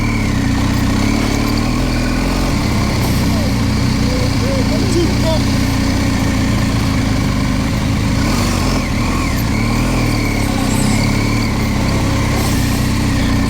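A motorcycle engine runs continuously and loudly close by, climbing the rutted dirt track of Sani Pass in South Africa, with a steady buzzing drone and wind noise throughout, a rider talking over it.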